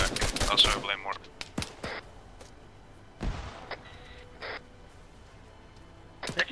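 Gunfire in the video game Arma 3: sharp bursts of shots and rapid fusillades crack loud near the start, then scattered single shots and echoing reports follow, with another burst at the end.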